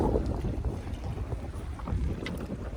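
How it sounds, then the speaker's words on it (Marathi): Heavy sea wind roaring over a fishing boat with its nets set, a continuous loud low buffeting rush against the microphone, unbroken and without speech. "वारा पण जाम आहे आज"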